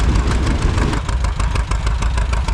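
An old engine of about 8.5 horsepower running steadily at a steam show, a loud, continuous low rumble with a faint regular beat, close by and without voices.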